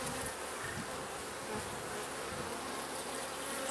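Honey bees buzz densely and continuously during a hive inspection, a close, full, steady drone filling the whole moment with no speech.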